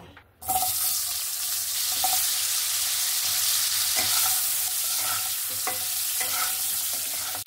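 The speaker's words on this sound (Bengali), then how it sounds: "এখানে আমার আলুটা প্রায় ভাজা হয়ে গেছে।" Potatoes hit hot oil seasoned with turmeric in a home kitchen, a sudden loud hiss that settles into a steady, crackling sizzle, punctuated by occasional spatula scrapes and stirring knocks.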